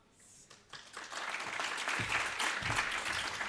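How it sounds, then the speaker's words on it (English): A conference room audience breaks into sustained applause after a talk on additive manufacturing, the clapping swelling within the first second and holding as a dense, even roar to the end. "Long applause here in the room."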